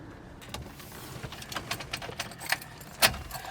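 A bunch of keys jangles and clicks irregularly while someone sorts for the right one beside a 1978 VW Westfalia camper van, with soft metallic rattles building to a sharper clink near the end. No speech.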